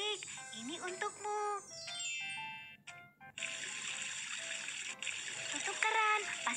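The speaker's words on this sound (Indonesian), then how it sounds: "Tutup keran, pastikan untuk menghemat air." Cartoon tap water runs in a steady broadband hiss through the second half, layered with bright chiming music and playful cartoon tones throughout.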